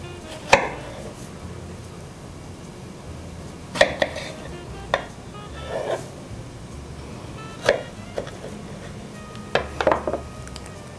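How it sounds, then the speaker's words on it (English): A knife cuts peeled tomatoes into quarters on a board, giving about six sharp, separate knocks spaced a second or two apart over a quiet kitchen background. "I cut this tomato in quarters."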